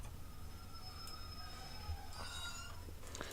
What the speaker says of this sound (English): That exact same brake squealing.